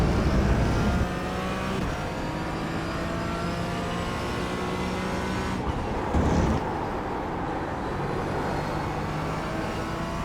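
Engine roar of GT4 race cars in the iRacing sim at Barcelona, a steady loud drone with cars closing in and passing, one brief surge of a car going by mid-way.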